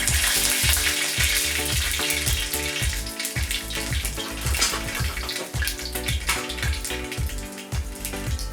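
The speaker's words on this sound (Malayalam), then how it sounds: "പിന്നീട് ഒരു ഉരുളി എടുത്ത് അതിലേക്ക് എണ്ണയൊഴിച്ച് 1 ടീസ്പൂൺ കടുക്," Mustard seeds and dried red chillies fry in hot oil in an uruli, a steady loud sizzle with dense crackling and popping throughout, close up and with no talk.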